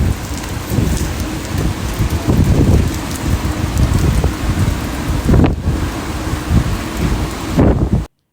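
Heavy rain and wind in a winter storm over Honolulu, Hawaii, a dense, continuous wash of pouring rain with gusting bursts, loud and close, cutting off abruptly at the end.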